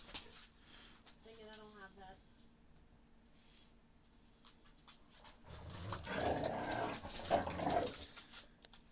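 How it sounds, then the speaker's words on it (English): Dogs indoors give a brief high whimper, then after a quiet stretch break into a louder burst of barking and panting, fairly close, with faint room noise between. "You know, these dogs,"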